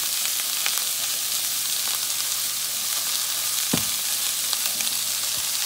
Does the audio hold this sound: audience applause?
no